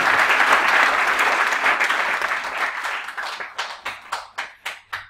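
Audience at a product training program claps loudly in a dense burst of applause that thins out into a handful of separate, spaced claps before stopping.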